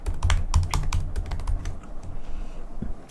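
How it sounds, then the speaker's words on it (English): Keys clatter on a computer keyboard in quick irregular bursts as text for a logo is entered, close and crisp with a few short pauses, and no voice over it. "Type in the text that you want for your particular logo"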